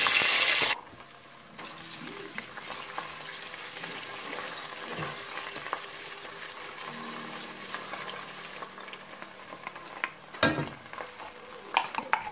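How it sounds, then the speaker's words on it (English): Onions fry in hot oil for Nigerian jollof rice. A loud burst of sizzle when they hit the pan settles into a steady crackling fry, with occasional light knocks of a utensil against the pot. "I don't always like my oil to be very hot before I add my onions"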